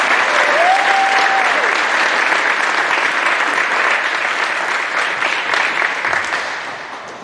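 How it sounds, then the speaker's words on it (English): An audience at a school awards assembly gives steady, sustained applause, a full wash of clapping that tapers slightly toward the end, with a brief faint tone early on. "Let's give them all a great big round of applause."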